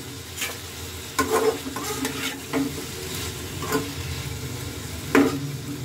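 Chicken chow mein frying in a pan with pepper and soy sauce, a steady sizzle broken by several scraping stirs of a spatula, close and moderately loud with no talking.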